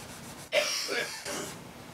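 Cloth swiped along the metal strings of an acoustic guitar to wipe off dirt, giving two or three quick, soft, close rubbing strokes in a quiet room.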